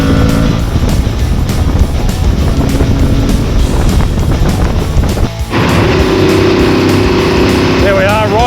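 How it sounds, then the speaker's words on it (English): An Aprilia Tuareg 660 motorcycle engine drones loud and steady while riding behind another bike, wind rushing over it, with a brief dip before the engine note picks back up. "There we are, riding behind Cam Donald, 2 times TT champion, Isle of Man"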